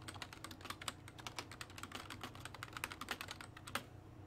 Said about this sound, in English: type exclamation help for commands list